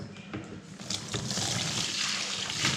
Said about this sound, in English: wash it in the sink.